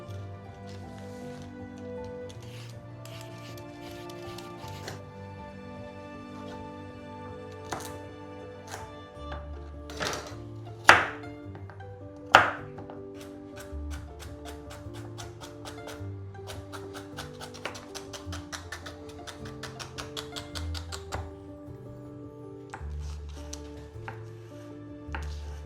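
Bacon is chopped on a board with a knife for a historical Lady Chesterfield recipe, heard as scattered, irregular taps and a few louder thuds, close and sparse over a quiet steady background.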